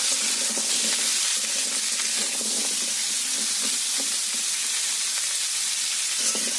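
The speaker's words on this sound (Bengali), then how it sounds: "তার মধ্যে দিয়ে দিলাম কেটে রাখা কুমড়োগুলো কুমড়োগুলো ভালো করে ভেজে নিতে হবে" Cut pumpkin pieces frying in hot oil in a home Bengali vegetarian kitchen, a steady loud sizzle that runs unbroken throughout with faint stirring.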